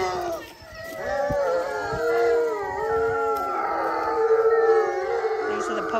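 A pack of bloodhounds howls together at a hunt's opening meet, many overlapping wavering cries sustained throughout, loud and near, with a person talking underneath.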